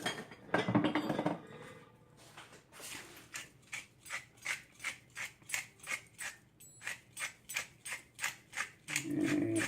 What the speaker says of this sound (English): Put some cracked pepper in this.